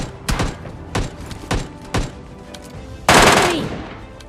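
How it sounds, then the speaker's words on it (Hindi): Automatic gunfire in a battle royale shooter, an MK14 rifle among the weapons: four evenly spaced loud shots, then a sustained burst of rapid fire with a ringing tail, close and punchy. "अभी इधर से फायरिंग होती है"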